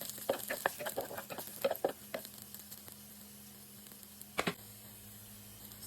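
Green onion stalks and garlic sauté in a pan, a soft background sizzle under a burst of quick scraping stirs and tapping, then a quieter stretch with one more clatter.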